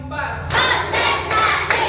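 A class of fifth-grade elementary students claps together in a counted rhythm, with several loud, evenly spaced bursts of unison clapping close by.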